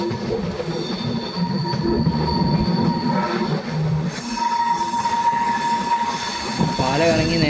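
The Kollam–Chennai Egmore Mail express, running with LHB coaches, rolls loudly across a bridge with a continuous rumble and clatter of wheels on rails, high metallic squeals rising near the end and no voices.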